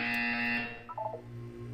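An electronic buzzer in the video game Portal 2, a loud harsh tonal drone for about half a second that then gives way to a softer warbling electronic tone.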